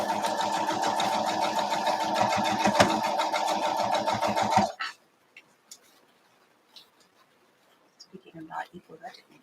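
A sewing machine stitching a quarter-inch seam on quilt strips, a fast, steady mechanical whirring rattle that runs for several seconds and then stops abruptly, followed by quiet handling noises and faint movement.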